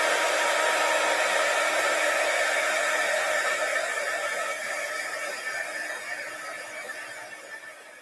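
A heat embossing tool blows hot air in a close, continuous whooshing hum with a faint whine, holding steady before slowly fading toward the end, with no talking.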